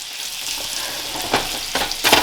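Marinated chicken frying in butter makes a steady, close sizzle, with a few louder bursts of stirring and spattering toward the end.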